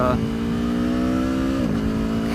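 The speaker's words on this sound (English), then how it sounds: "ride this beautiful Aprilia Tuono 1100 factory. So let's crank her on up, let it warm up, and go for a ride." Aprilia Tuono 1100 Factory motorcycle engine running steadily at idle with a strong harmonic drone, then dipping in pitch near the end as it settles while warming up; close and loud throughout.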